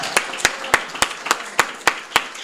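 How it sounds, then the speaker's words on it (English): A small audience claps at a religious meeting, with sharp, evenly spaced hand claps about every quarter second, loud and close, and no voice over them. "Let's give our sister another well-deserved round of applause."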